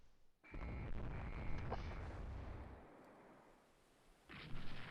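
Naval gunfire from warships in the naval strategy game Rule the Waves 3, a loud booming salvo that rumbles and fades out, followed by a second heavy report, with no talking.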